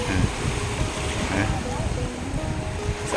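Strong sea wind buffets the microphone while waves wash and surge on the shore at Cha-am beach, a continuous rushing roar with faint background voices mixed in.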